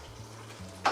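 Sautéed potatoes stirred in a hot frying pan, a brief soft sizzle with low pan rumble ending in a sharper scrape of the utensil, close and without talk.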